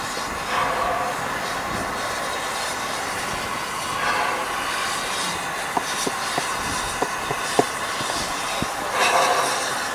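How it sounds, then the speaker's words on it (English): The Cockle Train tourist train at Victor Harbour, a steady low rumble of rolling railcars with a run of sharp clicks and clacks from the wheels and couplings partway through, heard from on board. "The Cockle Train, very famous tourist train down here at Victor Harbour"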